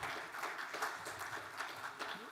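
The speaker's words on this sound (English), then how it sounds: "So let's give a big round of applause" Audience applause for a speaker at a blockchain congress, a faint, distant wash of many hands clapping throughout.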